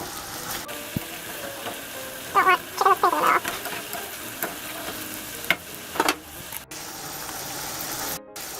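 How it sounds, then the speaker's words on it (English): Steady sizzling of chicken pieces frying in a pan, with scraping and clatter from a utensil turning the pieces partway through, close and fairly loud. "I'm going to flip the chicken again."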